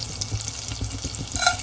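Cumin seeds drop into hot melted butter in a pan for palak paneer and give a soft, continuous sizzle broken by rhythmic stirring scrapes and a brief brighter hiss near the end, heard close up with no voices.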